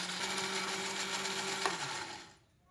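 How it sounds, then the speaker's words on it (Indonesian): A blender grinding chilies with oil whirs steadily at high speed for a couple of seconds, then winds down and stops, leaving near silence. "Aku blender sampai halus, sampai bener-bener halus."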